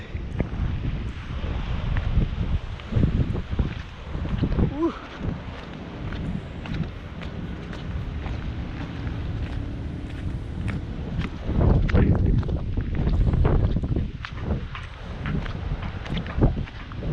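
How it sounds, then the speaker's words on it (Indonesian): A boat passes at sea off Pulau Merak Kecil, its low rumble rising and falling under steady wind buffeting the microphone, with a louder swell of engine and water noise near the end. "Kapal lewat."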